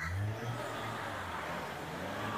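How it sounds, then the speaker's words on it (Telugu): A car engine revs and strains on a snowy road in Manali, a steady close mid-range drone with a slight rise in pitch, no voices over it. "మన బైకే కాదు అసలు కారు చూడండి ఎంత ఇబ్బంది పడుతుంది."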